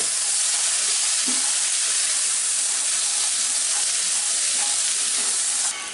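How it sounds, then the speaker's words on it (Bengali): Ground spices with Kashmiri chili powder, turmeric and salt frying in a pan for a pea masala curry, giving a loud, steady, hissing sizzle that runs unbroken throughout. "লবণ দিব দিয়ে এটাকে হলুদের গন্ধটা দেওয়া পর্যন্ত একটু ভেজে নিব"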